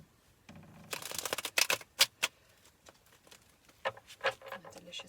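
A deck of tarot cards shuffled by hand close up, a brief quiet start, then a flurry of rapid papery riffles and snaps, a pause, and a few more shuffling bursts.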